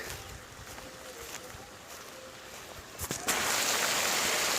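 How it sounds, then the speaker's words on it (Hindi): An irrigation pump motor runs beside a lentil field, with water rushing out in a steady broadband wash that suddenly grows louder and fuller near the end and stays constant. "देखिए मोटर चल गई है और पानी कैसा बह रहा है, आवाज़ आ रही है।"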